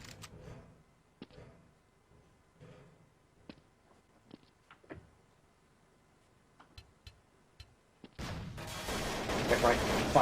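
Sharp gunshots from the video game CSPromod ring out as scattered single cracks over quiet game ambience, ending in a louder, dense burst of firing.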